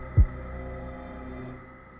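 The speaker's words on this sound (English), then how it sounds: "Their heartbeat goes crazy and then they can just reel it in." A heartbeat from the horror video game The Mandela Catalogue: a single deep, loud thump over a low steady hum that gradually fades, with no voices.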